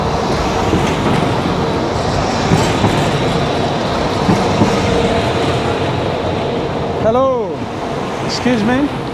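A tram rolls past on a Zagreb street, its steady rumble and rail clatter filling the scene, with wheels squealing in rising and falling arcs near the end. Faint voices are mixed into the street noise.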